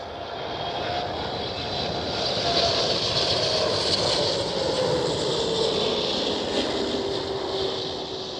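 A KLM Boeing 777-300ER airliner at Schiphol Airport, a loud steady jet engine roar with a faint whine that slowly shifts pitch as it passes, heard outdoors without talk.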